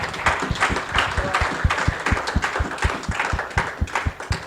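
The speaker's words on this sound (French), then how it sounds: "Qu'on acclame très fort pour le roi des rois." A church congregation bursts into loud, steady applause and rhythmic clapping for the King of Kings. The clapping runs close and continuous, with strong regular beats throughout.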